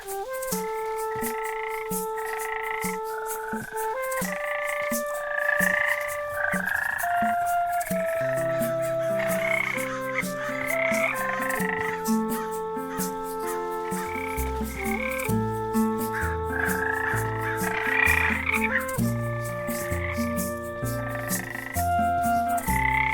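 Frogs in a Minecraft modpack croak in a continuous overlapping chorus of tonal, pitched calls, loud and close, layered over in-game music without speech.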